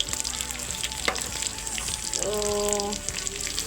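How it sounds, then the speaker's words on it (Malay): Buttermilk chicken pieces coated in flour fry in a pan with a continuous crackling sizzle, close and steady, while a brief word is spoken and a faint tonal ring sounds partway through. "saya terus letak je ayam di dalam kuali ni"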